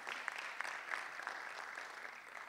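Audience applause at an award ceremony, a steady wash of many hands clapping throughout with a few sharper individual claps standing out, moderately loud and continuous, with no voices over it.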